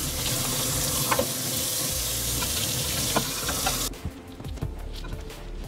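Running tap water splashes steadily over a piece of frosted glass at a sink, a loud continuous rush for about four seconds that then drops to quieter trickling and scattered drips and clinks.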